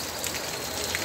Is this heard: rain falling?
yes